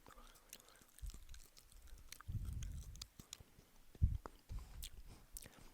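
Crunchy raw wild thistle leaves being chewed close up, soft irregular bursts of crisp mastication with quiet pauses between bites.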